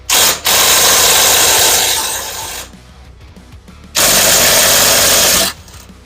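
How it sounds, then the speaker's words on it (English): A power tool spins out 12mm bolts from the front cover plate of an FL350, with two loud, close buzzing bursts separated by a quieter gap of low mechanical rattle. "We're going to go ahead, we're going to remove these 12mm bolts."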